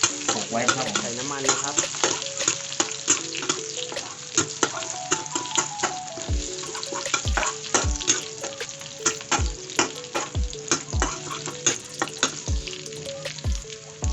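Pounded garlic frying for Thai pork fried rice, a steady loud sizzle with repeated scraping stirs and clanks of a utensil against the pan, no talk.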